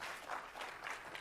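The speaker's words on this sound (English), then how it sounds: "let's give him a warm welcome, a round of applause as Ryan comes to the stage" An audience at the SVVR 2016 conference applauds as a speaker comes to the stage, a brief, faint patter of clapping from the crowd.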